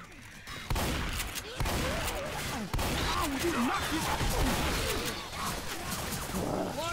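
Rapid gunfire in the zombie shooter Left 4 Dead 2 crackles in dense, continuous bursts mixed with impacts and game noise, loud and busy throughout, with voices talking over it.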